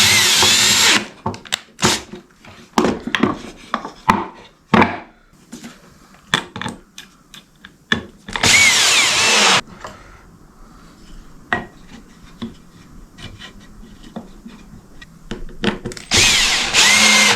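Power drill driving screws into pallet wood whines in repeated bursts of varying length, close and loud, with clattering of screws and wood handling between the runs.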